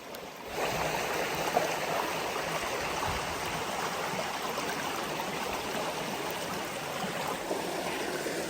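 Water pours and splashes out of a gold prospecting pan beside a Connecticut river, a soft, steady running wash that starts after a brief quiet moment and continues without pause.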